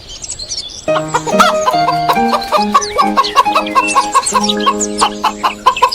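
Chickens cluck and chatter close by, a busy run of short rising calls and clucks repeating irregularly, with a rooster-like call mixed in.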